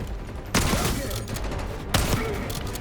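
Two sharp bursts of gunfire in Call of Duty: Black Ops 6, about a second and a half apart, over a dense, noisy battle background in a casino, with rumbling and clatter.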